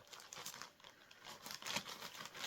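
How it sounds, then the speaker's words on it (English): Plastic or paper packaging crinkles and rustles steadily up close while an object is pushed and squeezed sideways into a tight space, with bursts of louder crackling throughout. "I'll cut the rustling out if it's bad."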